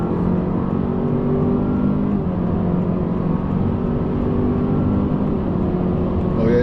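A 2026 Honda CR-V Sport L accelerating from inside the cabin, a loud steady engine drone that rises gradually as the car gathers speed, with a brief dip in pitch suggesting a gear change.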